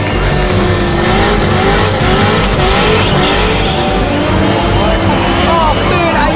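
Drift cars in a tandem chase at a D1NZ Drifting Championship event in New Zealand: loud, continuous engine roar with sustained tire squeal and skidding throughout, under an excited commentator's voice.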